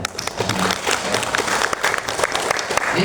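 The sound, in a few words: audience applause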